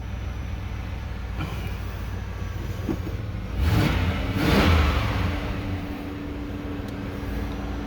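A Chevy Impala SS engine runs steadily after a fuel pump replacement, a low even idle that swells briefly partway through and then settles, with outdoor background noise and no talking.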